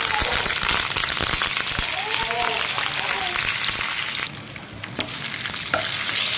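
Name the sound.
cumin, coriander and curry leaves sizzling in hot oil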